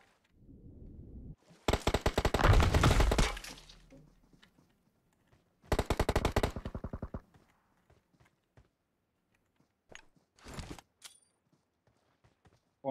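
Gunfire bursts in the PUBG Mobile video game: a long rapid burst, a second shorter volley, then a brief final flurry, loud and close with quiet footstep-like sounds in between.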